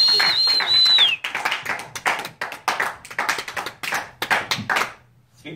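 An audience at a live playhouse comedy show breaks into a dense round of applause that swells and thins, with a high electronic tone at the start and a brief voice near the end.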